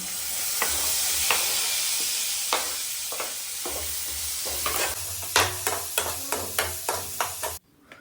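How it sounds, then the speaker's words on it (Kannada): Steady sizzling of onions frying in a pan, with repeated sharp scraping clicks of stirring that grow quicker and louder toward the end before stopping abruptly. "ಈಗ ಇದೇ ಬಾಣಲೆಗೆ ನಾನು ಈರುಳ್ಳಿ ಫ್ರೈ ಮಾಡಲಿಕ್ಕೆ ಸೇಮ್ ಬಾಣಲೆಗೆ ಹಾಕ್ತಿದ್ದೇನೆ"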